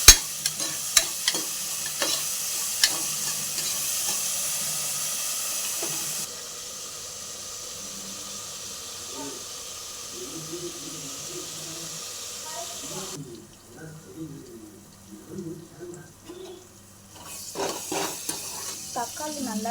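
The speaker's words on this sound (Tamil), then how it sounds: "நல்லா வதக்கலாம்" Tomatoes sautéing with salt in a pan, a bright sizzle with stirring clicks at first, then a quieter stretch with voices talking over low frying, ending with more stirring.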